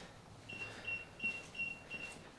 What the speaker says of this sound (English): And then now it beeps.